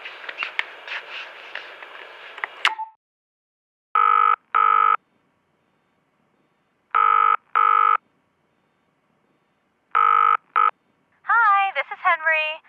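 A telephone call opens with a short burst of touch-tone dialing, then three pairs of electronic ring tones separated by silence, before a voice begins a voicemail greeting.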